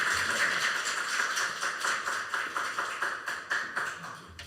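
Sustained applause from a church congregation at a Sunday service, many hands clapping together in a steady, fairly loud wash that gradually thins toward the end.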